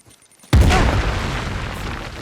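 A grenade bursts in the video game Uncharted: The Lost Legacy: after a brief quiet moment comes one loud, close boom that trails off into a long rumbling decay.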